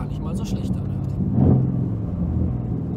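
A Mercedes AMG GT R tuned by Sievers Performance drives past with a steady low engine rumble, swelling briefly mid-clip, heard from inside or nearby under road noise.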